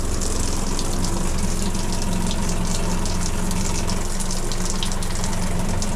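Cold water gushes steadily from a shower tap in a Class A RV, a loud, continuous rushing spray that never lets up.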